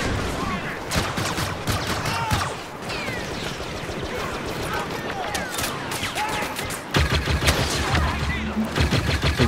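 Rapid sniper rifle fire from a Star Wars Battlefront match, sharp repeated shots and blasts in dense battle chaos, loud and close with a heavier burst near the end, under game voices.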